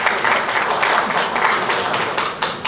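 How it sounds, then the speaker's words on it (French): Applause from an assembly audience fills the room at a mutual society's first general meeting, a steady dense patter of many hands lasting a few seconds without a break. "et cela s'applaudit"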